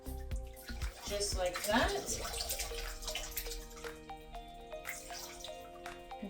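Water runs and drips as a wig is rinsed under a tap, a quiet splashing trickle with close drips, and a person speaks briefly.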